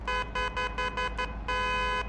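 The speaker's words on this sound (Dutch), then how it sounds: "We hebben ook een toeter." A truck horn in the Truck & Logistics Simulator PC game gives six short, steady honks in quick succession, then one longer blast, loud and close with no talk over it.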